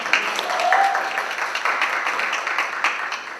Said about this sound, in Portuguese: Por favor, palmas ao